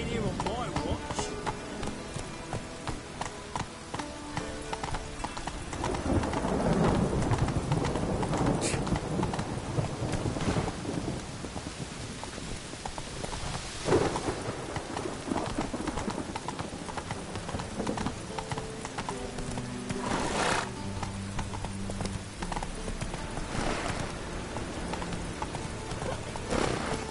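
Roach, a horse in The Witcher 3, gallops with steady, close clip-clop hoofbeats and an occasional whinny, joined by some wind noise while someone talks over the hooves.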